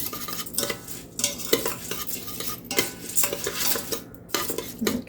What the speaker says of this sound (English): Get it stirred up